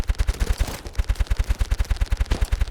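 Rapid automatic gunfire from a free online shooter video game, a steady train of loud regular shots about eight per second running through the whole stretch with no talking.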